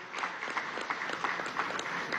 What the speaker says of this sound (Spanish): Un aplauso desde aquí, vale.